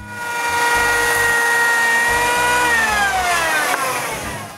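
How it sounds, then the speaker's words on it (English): An electric planer shaves a 30-degree angle along a wooden 4x6 beam, its loud motor whine holding steady and then dropping in pitch as the blade bites into the wood. "I make the 30-degree angle with an electric planer."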